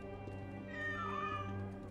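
Cat meowing in the video game Assassin's Creed Origins, a single drawn-out mew rising and falling over a steady droning game ambience, soft and close.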